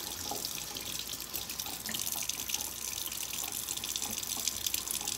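Tap water runs steadily over bell pepper seeds in a kitchen strainer, a continuous close splashing hiss with faint drips and no talk.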